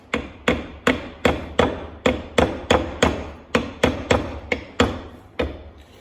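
Steady blows of a soft-faced hammer on a metal three-jaw lathe chuck, about fifteen sharp, close strikes at a regular pace, each ringing briefly before the next.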